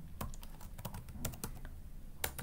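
Fingers tap a computer keyboard in quick, irregular bursts of crisp, close clicks during a programming session, with no talking.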